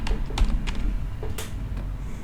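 Keys tapped on a computer keyboard while a name is entered into a spreadsheet data entry form, a few quick clicks at close range over a low background hum.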